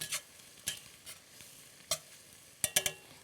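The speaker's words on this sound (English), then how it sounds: "and give that a stir." Food sizzles in a pan while a spoon stirs through it after a pinch of salt, giving a scattering of sharp scraping clicks over a faint, steady sizzle, up close with no voices.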